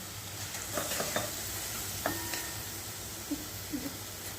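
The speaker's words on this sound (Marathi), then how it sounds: "हे गाजराचं पीठ नरम पडला की त्यामध्ये आपण साखर घालायची आहे आणि ते सारखं परतत राहायचं आहे" Carrot halwa with sugar is stirred in a pan, giving soft, scattered scraping strokes of a spoon against the pan over a faint, steady background, quiet and close.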